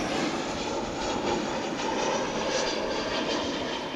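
Boeing 777 jet airliner at Dallas/Fort Worth Airport, heard as a steady, loud, broadband engine roar that holds evenly throughout with no break or voices.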